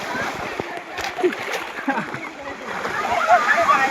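At a water park, water splashes and sloshes in a busy, uneven wash. Occasional bursts rise out of it, and excited voices call out over the noise.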